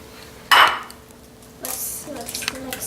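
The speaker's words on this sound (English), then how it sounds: "Okay, mix it up really good." Eggs for lemon bar batter are stirred in a bowl, a sharp clink of utensil on the bowl followed by softer scraping and tapping, close and fairly quiet, with children nearby.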